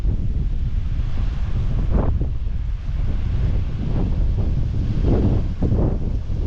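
Strong wind buffets the microphone at a mountain lookout in the Grampians, a steady low roar with louder gusts swelling throughout and no voices.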